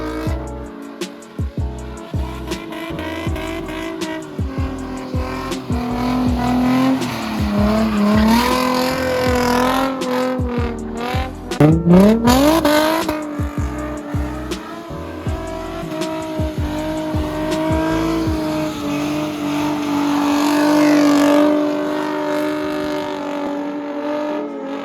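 A car engine revs hard and repeatedly while drifting, rising and falling in pitch with loud bursts and a sharp high-revving surge midway, close and continuous.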